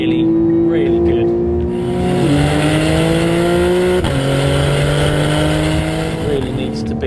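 A 2012 Porsche 911 Carrera with the new 3.4 litre engine and sports exhaust revs loud and close, its note climbing through the gears with two clear upshifts while someone talks over it.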